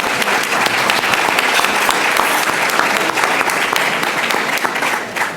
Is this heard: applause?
yes